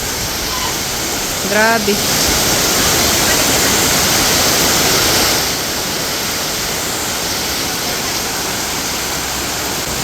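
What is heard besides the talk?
very heavy rain pouring down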